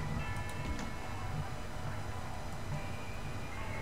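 A roller coaster train in Planet Coaster, a video game, runs along its track with a steady, dense rumbling roar that fills the whole stretch without pause.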